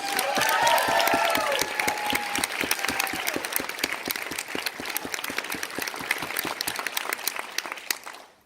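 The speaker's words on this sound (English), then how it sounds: "let's give a big round of applause to Brooke, the veterinarian." A crowd applauds a veterinarian at the pawFest 2018 veterinary panel, with a few cheers and whistles at the start, then clapping that thins into scattered claps before fading out.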